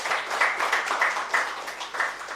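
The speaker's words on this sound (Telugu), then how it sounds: "మరి మనకి గట్టిగా క్లాప్స్ చేసుకుందామా?" Class audience clapping together, a moderate burst of many hands with a loose rhythmic pulse, fairly close and alone, with no voices.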